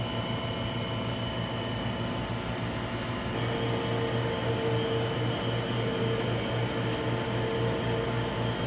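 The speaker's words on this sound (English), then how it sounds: "So now the chamber is pumping down" An Anatech reactive ion etcher's vacuum chamber pumping down toward a 30 millitorr base pressure: a steady mechanical pump drone and hum holds at moderate level, with a faint tonal whine rising partway through.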